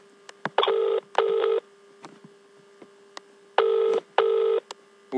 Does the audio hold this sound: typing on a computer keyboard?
no